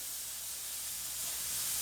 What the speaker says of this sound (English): we're just going to sear the meat